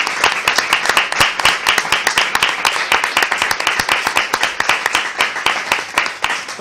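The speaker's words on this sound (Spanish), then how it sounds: "Quería que lle deramos pois, un aplauso desde aquí non? a compañeira Silvia" Loud, close applause from an audience at a Galician-language talk, honoring a colleague: many hands clapping in a fast, dense patter with a slightly pulsing rhythm, sustained without pause and with no voices over it.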